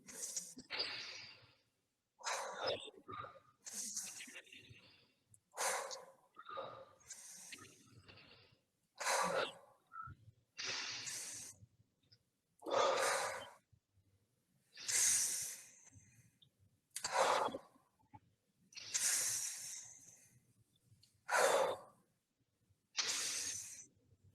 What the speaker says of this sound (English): let's breathe together 10 times, in and out. Really deep.